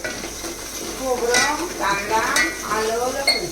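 A tempering of spices is poured into the same pot the dal was cooked in, giving a close sizzle and crackle with a stirring scrape and light clinks of utensils, while voices talk over it.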